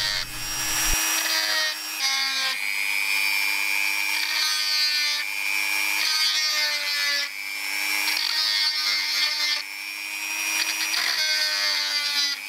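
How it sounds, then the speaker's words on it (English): A Dremel rotary tool drills through a PCB held in a bench vise, a loud steady high-pitched whine that runs almost continuously, with brief dips between passes. "just drilled a hole using my Dremel"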